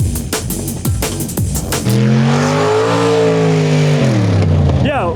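Ram TRX truck and a 650hp race buggy drag racing on dirt, engines revving hard through rising gear shifts, one long loud sustained pull with tire noise and voices in the background.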